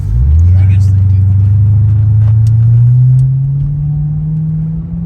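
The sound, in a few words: Cadillac CTS-V car engine accelerating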